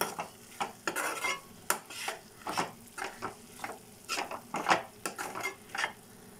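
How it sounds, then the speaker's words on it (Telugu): Eggplant, capsicum and tomato curry with spices being mixed in a pan, with rapid, rhythmic spatula scrapes and clatter over a light sizzle, close and fairly quiet. "కలుపుకోవాలండి బాగా."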